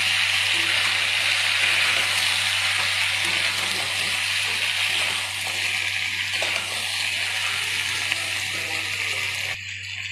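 Vegetables fry in a pan for shukto, a Bengali dish, after ginger paste goes in, giving a steady broadband sizzle with scattered stirring scrapes and a constant low hum underneath throughout.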